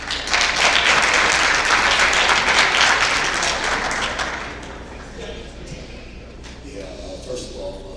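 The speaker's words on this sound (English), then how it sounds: "Now let's go round of applause for Coach Mike." Loud applause for Coach Mike at a college signing swells for about four seconds, then fades into scattered claps and thuds as a voice starts talking.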